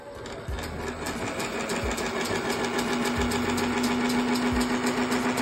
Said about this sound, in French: on va lancer la machine